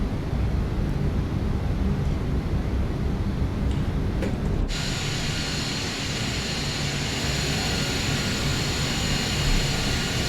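Lockheed L-1011 TriStar airliner on final approach to land at Honolulu, heard from the cabin as a steady, loud broadband engine and airflow roar that brightens and intensifies partway through, with no talking.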